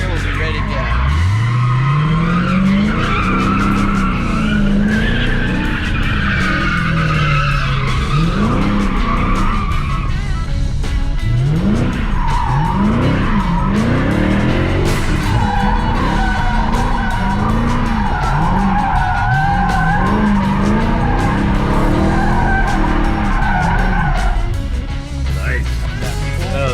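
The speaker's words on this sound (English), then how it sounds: "Dodge Challenger SRT Hellcat Red Eye, so 797 horsepower underneath the hood." A Dodge Challenger SRT Hellcat Redeye with 797 horsepower revs hard and accelerates on a track, its engine roaring loudly and close while tires squeal repeatedly through the run, with voices talking over it.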